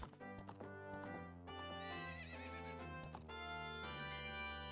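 A video game horse in Ocarina of Time: Master Quest whinnies loudly and repeatedly over a steady, synthetic-sounding backdrop, with hooves clip-clopping beneath.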